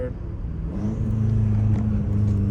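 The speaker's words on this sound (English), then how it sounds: "the turbo sounded freaking beautiful" BMW M5 Competition with a turbo engine and titanium catback exhaust, a deep steady drone that climbs slightly in pitch as it pulls, heard from inside the car with a voice speaking over it.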